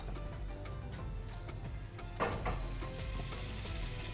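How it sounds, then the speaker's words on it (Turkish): Butter sizzles and crackles as it melts into hot sugar caramel in a pan for stick baklava, a steady close frying hiss with a brief louder burst midway, no voices. "İçine yağını atacağım. Tereyağı."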